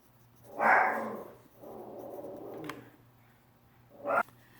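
A dog indoors gives a few muffled barks and whimpers, two louder bursts separated by a quieter stretch of noise, heard at moderate distance.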